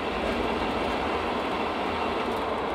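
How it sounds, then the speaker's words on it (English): Steady rattling and rumbling from the transmission area of a 1997 Ford Ranger with a rebuilt rear end, a loud continuous broadband drone throughout with no talking. "if you do hear a little bit of rattling noise, I do have a little issue in the transmission area"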